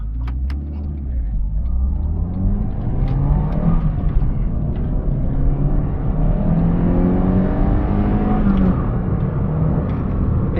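Toyota Corolla FX-GT hot hatch with its 1980s 4AGE engine revving loudly and steadily, rising and falling through the rev range, close by and alone for about ten seconds.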